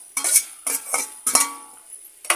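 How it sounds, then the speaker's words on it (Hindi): A spoon stirs spiced chicken keema gravy with roasted vegetables frying in a pan, giving several scraping, sizzling strokes in an uneven rhythm, close and fairly loud with no voices. "ये देखिए जो ग्रेवी हमने ऐड की थी उसको ड्राई होने तक ऐसे भूनना है"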